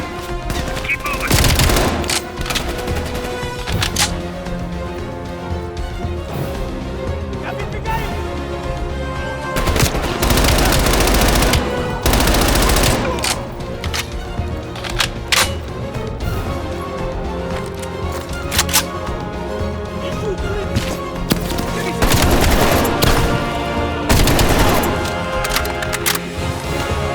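Intense Call of Duty Black Ops Cold War combat with near-constant machine gun fire and dense overlapping bursts, swelling in heavier volleys throughout under a busy battle din.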